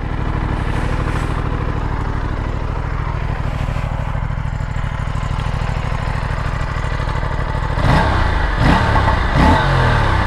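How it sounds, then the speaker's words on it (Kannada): An Aprilia RS457 motorcycle's exhaust drones loudly and steadily at close range, then its revs climb with rougher bursts near the end. "ಎಕ್ಸಾಸ್ಟ್ ನೋಟು ನಿಮಗೆ ಕೇಳಿಸ್ತೀನಿ ರೀ."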